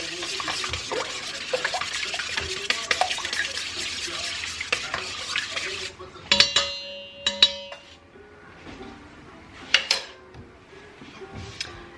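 Eggs being mixed for traditional scrambled eggs: a busy stretch of rapid whisking and clinking against a bowl, then a quieter pause broken by a few sharp metallic clanks and taps.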